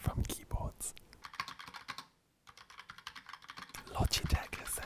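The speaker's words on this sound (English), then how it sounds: "We're going to try out typing with them." Typing on Logitech keyboards: rapid clattering keystrokes, close and crisp, with a brief pause midway before the busy clicking resumes and intensifies.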